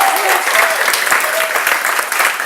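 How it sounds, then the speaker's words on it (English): A church congregation gives Noah a loud round of applause, dense continuous clapping close by with faint voices and a few cheers woven through. "just go ahead and give Noah a huge round of applause"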